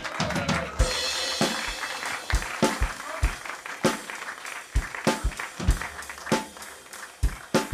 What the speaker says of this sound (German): begrüßt mit einem tosenden Applaus